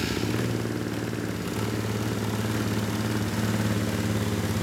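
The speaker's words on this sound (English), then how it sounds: "So I'm gonna go ahead and start it up for you guys." Small Polaris Outlaw 110 fuel-injected youth quad engine running at a steady idle, a continuous low buzzing hum that stays even and close throughout with no talk over it.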